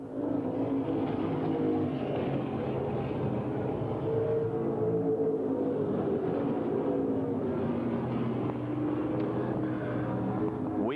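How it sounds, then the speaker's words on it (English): Grand Stock cars racing around the Langley Speedway oval at a 1994 circle-track event, their engines a steady, somewhat distant roar and drone that holds throughout, with no talking. "The 17 working down the back straightaway now begins to try and stretch that lead on John Hicks back out."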